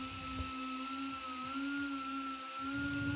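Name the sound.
2-inch pneumatic polisher sander with disc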